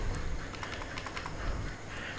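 Quick, light key clicks rattle on a computer keyboard as CSS code is entered, a short uneven burst over a low background hum.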